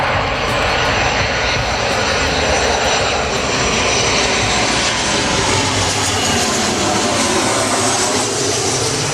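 Qantas airliner engines at takeoff at Gold Coast Airport, a loud, steady broadband roar that holds continuously throughout, close and dominant with no talking over it.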